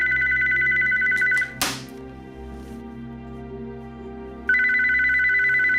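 Telephone ringing in a home, a steady electronic ring that sounds, pauses briefly, then resumes, fairly loud and close with no talk over it.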